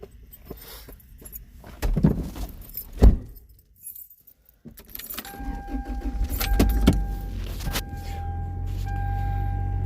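A manual-transmission pickup truck starts up and pulls away, with keys jangling and door and handling clatter early on, then a steady close engine drone building and holding through the second half.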